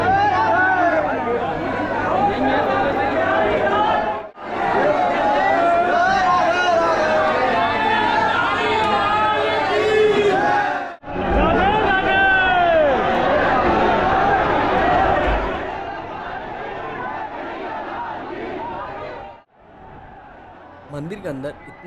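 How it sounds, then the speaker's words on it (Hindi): Dense crowd chatter and hubbub inside the Banke Bihari temple in Vrindavan during Holi, a loud continuous babble of many voices with brief dips, fading toward the end. "मंदिर के अंदर इतना भीड़ था,"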